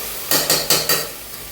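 Onions and tomatoes with salt cooking in a pan, stirred in four quick scraping strokes close by, with a faint sizzle beneath and no talking.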